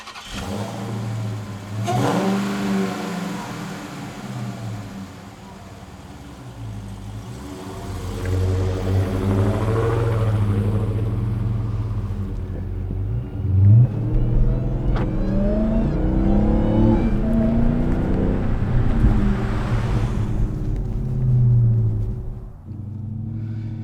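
A 797-horsepower 2021 Dodge Charger SRT Hellcat Redeye Widebody rumbles and revs, climbing through gears with rising whines and deep throaty surges as it accelerates, heard from inside.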